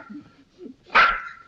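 Small dogs give a short burst of yapping barks close by, one sharp bark rising loud and trailing off after a quiet lead-in.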